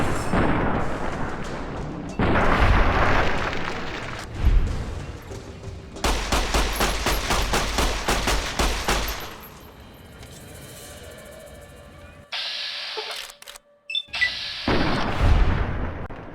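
The light shining in darkness DLC pistol in Fallout New Vegas fires in rapid bursts, dense cracking shots tumbling over each other, broken by brief pauses and other game sounds.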